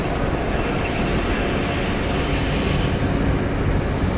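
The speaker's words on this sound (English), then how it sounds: "Landing, Delta Airlines flight 1862, coming in from Little Rock." Delta Air Lines Boeing 737-900ER from Little Rock landing at Atlanta Hartsfield-Jackson, a steady, dense engine roar holding at a constant level for a few seconds without talk.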